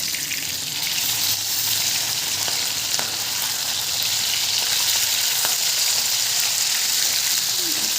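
Fish frying in a pan on a home cooking stove, a steady, close crackling sizzle that runs without a break, with faint scattered pops over the hiss.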